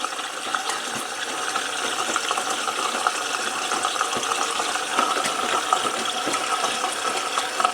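A washing machine fills with water at the start of its main wash cycle: a steady, continuous rushing and hissing of water that runs evenly from start to finish with no voices.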